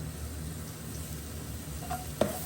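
Aubergine cooks in coconut oil in a pan with a faint, steady low sizzle, broken near the end by a brief utensil clink.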